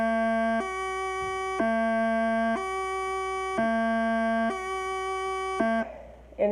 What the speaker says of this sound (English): And here's the F, low A.